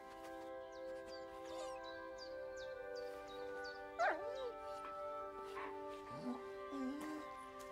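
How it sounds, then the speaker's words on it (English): Dog in the video game Kingdom Come: Deliverance 2 gives short whimpers and yips over steady game music, with a couple of brief louder barks midway and later. "Mutt, come here. Good boy, good boy."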